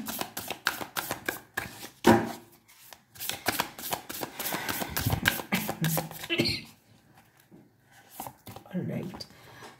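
Tarot advice cards being shuffled and drawn, a run of quick papery flicks and snaps, close and fairly loud, broken by short pauses, with a person talking over parts of it.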